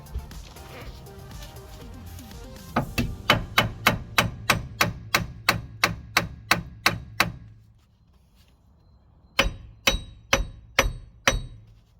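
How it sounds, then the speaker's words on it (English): Steady, rhythmic hammer blows ring out on a seized front wheel hub of a Hyundai i30, about a dozen in a row, then a short pause before another quick run of strikes. "So I'm going to try and hammer it"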